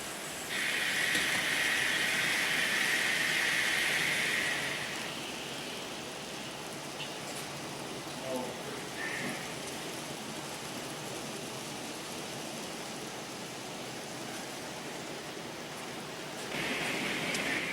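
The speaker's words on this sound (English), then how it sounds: "my Santa Fe reefer train is coming." An N scale model Santa Fe reefer train runs on a club layout, giving a faint, steady mechanical whir and rumble with a brighter, louder stretch early on and again at the end.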